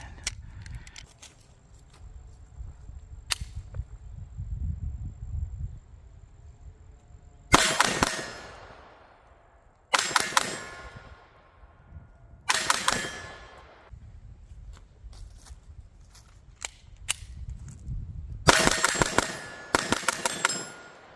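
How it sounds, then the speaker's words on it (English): Pistol shots striking a Super Gong steel target at about ten yards: several sharp cracks, each followed by a bright ringing clang that decays over a second or two, spaced a few seconds apart with some faster pairs, loud and alone. "I'm going to shoot at this steel target here in the center"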